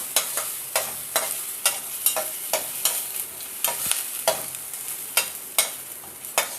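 Whole spices and garlic crackle in hot oil for a tempering base for mint chutney, with sharp sizzling bursts and stirring scrapes recurring in an uneven rhythm, close and alone without talk.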